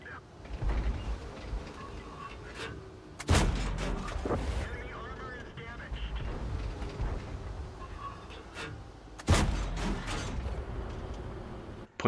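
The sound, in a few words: tank gunfire in a video game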